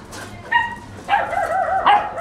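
Puppies barking in a few short, high yappy bursts close by, with whimpering yips between them and no talking.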